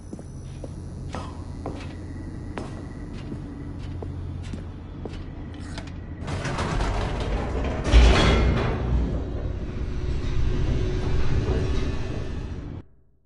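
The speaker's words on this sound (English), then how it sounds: "The elevator raced downward, plummeting towards an unknown fate." An elevator descends in the video game The Stanley Parable: quiet clicks and footstep-like taps give way to a swelling mechanical rumble and rushing roar with a heavy thud midway, continuing loud before cutting off abruptly.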